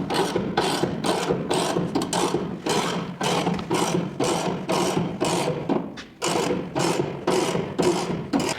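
A spring compressor squeezes a 1967 Mustang coil spring with a run of sharp, evenly spaced ratcheting clicks, about two per second, close and loud, with one brief pause near the end.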